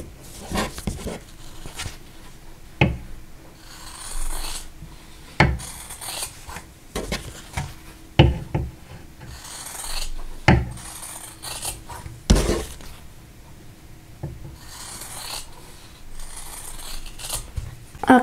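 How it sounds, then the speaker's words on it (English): Quilt fabric for half-square triangles is cut apart along a drawn line, with repeated crisp snipping and rasping strokes, some irregular and some evenly spaced, close and fairly loud, with no talking. "Next thing I need to do is to cut these apart right on that drawn line."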